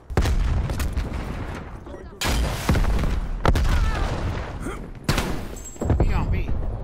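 A Semtex sticky grenade detonating in Call of Duty: Black Ops Cold War multiplayer, a loud sharp boom amid a dense stretch of repeated gunfire and blasts, with players talking over the action.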